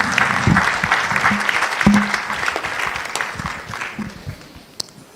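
Audience applause at the NSMQ 2025 National Championship launch after a sponsor's speech, a loud, steady crowd clapping with scattered sharper claps and a faint voice or two mixed in.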